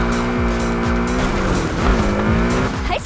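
A racing car in the Need for Speed mobile game accelerates hard, its engine roaring steadily while the tires squeal in several short bursts, loud and close throughout with no voices.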